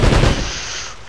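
Rapid gunfire bursts loudly as barrels are shot in Uncharted: Drake's Fortune on PS3, a dense close volley that trails off into a short echoing decay.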